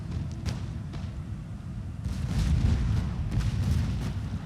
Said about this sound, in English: Now I stopped charging my troops and just laid down some covering fire as their light infantry retreats